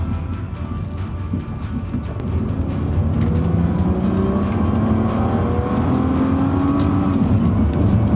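A car accelerates hard to 100 km/h on a road. The engine drones steadily and loud and the pitch climbs in long rising sweeps as it pulls through the gears, with no talk over it.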